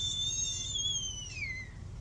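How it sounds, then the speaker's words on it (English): A small clay sake cup whistles as it is sipped from, giving a steady high-pitched tone that slowly bends downward and fades after about two seconds, heard close and alone over a low background hum. "So you take your shot of sake or whatever, and it whistles back at you."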